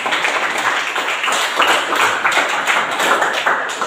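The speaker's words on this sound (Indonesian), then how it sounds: "Sebelum mempresentasikan kita memberikan aplaus kepada" A classroom of students applauds before a group presentation: a steady, fairly close patter of many hands clapping together, continuing throughout without talk.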